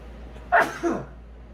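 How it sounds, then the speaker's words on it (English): A single sharp sneeze, close and fairly loud, with a quick intake burst followed by a short trailing release, in an otherwise quiet room. "Sneeze on camera."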